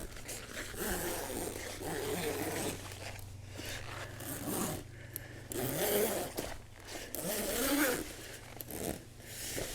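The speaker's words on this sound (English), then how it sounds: "Unzip this." The big zipper on an inflatable Advanced Elements kayak is pulled open in several rasping stretches, close and fairly loud, with brief pauses between pulls and no talking.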